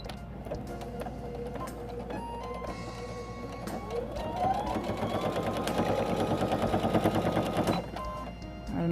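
A sewing machine runs a straight stitch across a towel for an oven door, its even, rapid needle clatter building and speeding up, then stopping abruptly near the end, with no voices.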